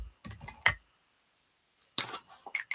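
A few sharp metallic clinks, small cluttered knocks bunched near the start, then a short silence and another cluster of bright taps, close and fairly quiet, with no talk.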